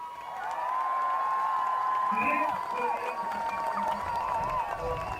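Crowd at a sailing race finish applauding and cheering a tired, smiling solo sailor, a steady wash of clapping and whoops with a tonal hum and a commentator talking over it.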